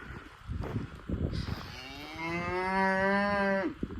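Loud, close cow moo rising from low shuffling and rustling noise, one long sustained bellow that breaks off abruptly at the end.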